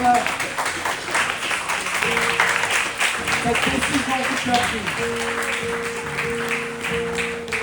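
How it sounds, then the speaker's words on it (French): A congregation at a baptism celebration claps in a sustained, moderately loud patter while a voice speaks over it and sustained tones, like music or singing, drift in the background. "est-ce qu'on peut applaudir Mélina"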